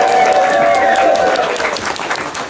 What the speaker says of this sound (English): Everybody give a round of applause for our subject matter expert over here